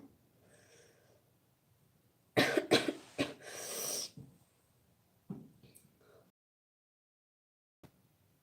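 A woman coughs close by in a quiet room: a cluster of harsh, rapid coughs, a brief pause, then a few smaller coughs and throat sounds, with faint breathing between.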